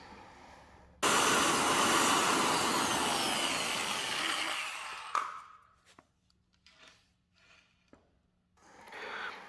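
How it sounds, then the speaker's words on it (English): A biscuit joiner cuts a slot into a piece of reclaimed fence wood: a loud, steady whining roar for about four seconds that spins down, followed by a few faint clicks and handling sounds. "line up the biscuit joiner and it cuts a slot into the side of the piece"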